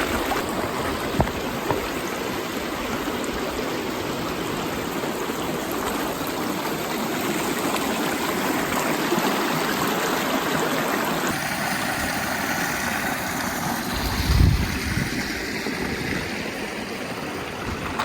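Steady, full rush of Mission Creek flowing over rocks, continuous and close, with a faint high whine in the background.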